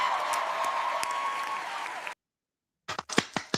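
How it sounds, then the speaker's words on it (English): An audience gives a round of applause at a live gathering. Dense, fairly close clapping lasts about two seconds and stops abruptly. After a silent gap, a few scattered claps follow. "Everyone give Gummy a round of applause"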